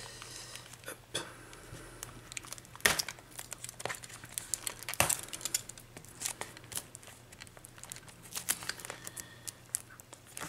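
Yu-Gi-Oh booster box packaging being torn and crinkled open, close and continuous, with sharp rips and crackles scattered over about ten seconds and no talking.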